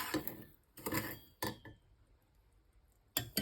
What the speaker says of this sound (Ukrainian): Ретельно перемішуємо і одну столову ложку гірчиці.